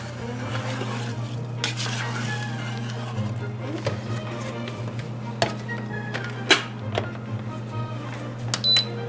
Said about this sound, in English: and some olive oil. Stir it.